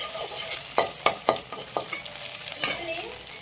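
An egg is stir-fried in a pan for chicken noodles, with a steady sizzle broken by several sharp scrapes and knocks of a utensil against the pan, close up and with no talking.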